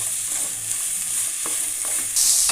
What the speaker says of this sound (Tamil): நல்லா வதக்கிங்க ஒரு சிறிது நேரம் வதக்கிடுங்க